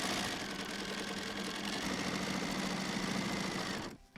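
A sewing machine runs steadily, stitching a 1/4-inch seam that joins a black strip to a quilt block, with a close, continuous motor whir and rapid needle rhythm that stops abruptly at the end.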